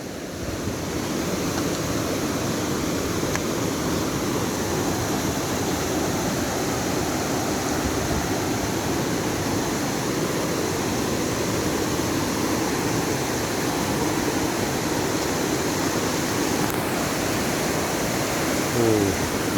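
Rushing river water after a flash flood roars steadily at the riverbank, a loud, constant broadband torrent with no pauses, heard alone with no talk.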